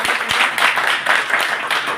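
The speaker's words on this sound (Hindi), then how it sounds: "एक बार जोरदार तालियां।" Enthusiastic applause from attendees at a district review meeting, steady dense clapping filling the whole moment at close range without pause.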